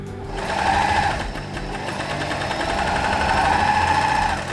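A sewing machine stitches a fabric scrunchie, its steady fast mechanical whirr running close and loud for a few seconds after a brief start, with no talking.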